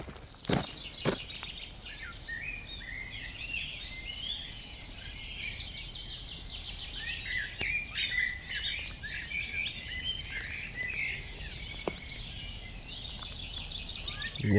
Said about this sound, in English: It's just birds singing.